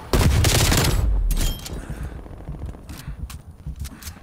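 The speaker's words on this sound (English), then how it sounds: "I'm being shot at." Call of Duty Black Ops Cold War multiplayer gunfire: a loud close burst of rapid automatic shots in the first second and a half, then scattered quieter shots and game noise.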